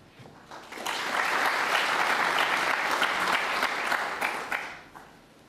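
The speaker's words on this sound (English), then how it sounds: "Oohs and ahs from the Crucible crowd" The Crucible snooker crowd at the 2020 World Snooker Championship final, Ronnie O'Sullivan against Kyren Wilson, swells into a broad burst of audience reaction lasting several seconds before fading away, with no talk over it.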